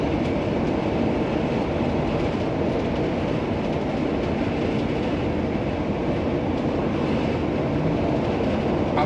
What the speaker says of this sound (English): Wind always sounds good for Class C.